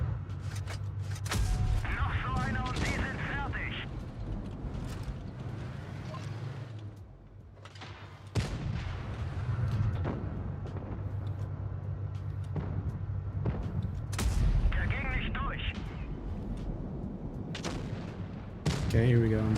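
Tank cannons fire in a World of Tanks Blitz tournament match, several heavy booming shots spaced across the clip over constant engine rumble and battle noise, loud and close.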